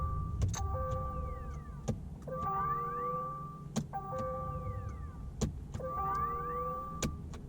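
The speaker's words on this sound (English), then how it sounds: "this cool futuristic startup noise serves no purpose other than to let you know that the car is on" A BMW i8's synthetic startup chime repeats in layered bursts of rising and falling electronic tones, with sharp clicks and whooshes about every one and a half seconds.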